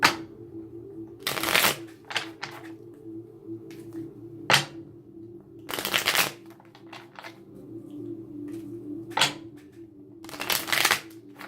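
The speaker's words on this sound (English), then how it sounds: "I'm going to keep shuffling." Repeated bursts of cards being riffle-shuffled close up, fast fluttering flicks in irregular clusters over a low steady hum.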